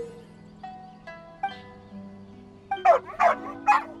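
A dog in Genshin Impact gives a few short yips and barks near the end, following soft whimpering tones, close and clear over quiet game music.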